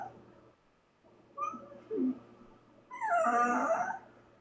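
A dog heard through a voice-chat microphone gives a few short, close whimpers, then a longer, louder whining cry.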